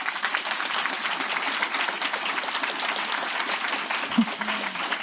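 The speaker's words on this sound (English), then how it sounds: "Let's give them a big round of applause." A conference audience claps continuously at a steady level during closing remarks, with a brief voice cutting in near the end.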